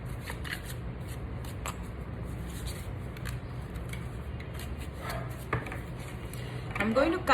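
A deck of tarot cards is cut by hand, giving soft papery shuffling and riffling with a brief burst of sharper card clicks near the end, over a steady low background hum.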